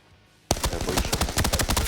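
Gunfire in the shooter game Arena Breakout bursts in suddenly after a quiet moment, becoming a rapid, loud, close string of automatic shots that keeps going to the end.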